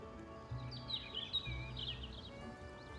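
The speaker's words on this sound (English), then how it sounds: "The warbling of birds that were actually there, not some sound coming from a speaker." Birds warble outdoors in the video game Goddess of Victory: Nikke: faint, scattered high chirps over a quiet, steady ambient hum.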